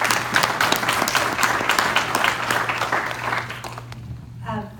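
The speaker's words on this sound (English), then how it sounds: "Let's give her a round of applause." An audience at a benefit remembering people lost to drug overdoses applauds a speaker with steady, dense clapping that thins out near the end, with faint voices surfacing as it fades.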